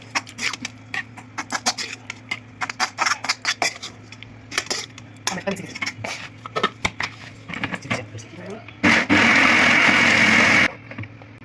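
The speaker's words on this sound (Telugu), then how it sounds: "మొత్తం బాగా పేస్ట్ లాగా మిక్సీకి వేసేసుకున్నాం" Utensils clatter and tap for several seconds, then a kitchen mixer grinder roars loudly for a short burst close by, grinding spice paste, before cutting off.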